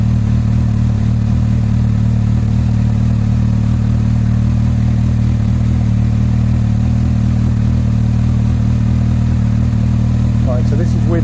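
Honda CBF1000 motorcycle engine idling steadily and loud up close after stator fitting, a constant low rumble, with a faint brief voice near the end.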